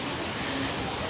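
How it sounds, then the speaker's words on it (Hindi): Heavy rain pours down steadily and close by, a dense unbroken hiss of drops drumming on surfaces for the whole stretch, with no voices over it. "बहुत तेज़ बारिश हो रही है"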